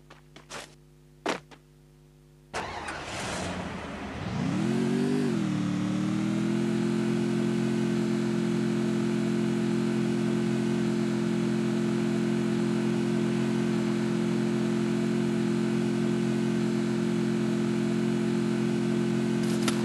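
A motorbike engine in the mobile game Free Fire. After a few faint clicks it starts, revs up, then settles into a loud, steady, droning hum that holds alone for many seconds.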